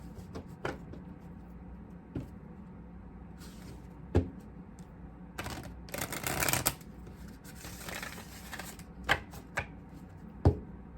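A Spirit Message Oracle card deck being shuffled by hand, with crisp riffling bursts and scattered taps of cards against a surface, close and fairly loud with no talking.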